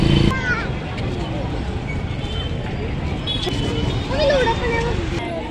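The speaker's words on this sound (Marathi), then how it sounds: "गर्दी गर्दी गर्दी गर्दी." Crowd bustle at the Bhairavnath fair in Talegaon: a steady murmur of many voices mixed with passing vehicle noise, with a nearby person talking over it.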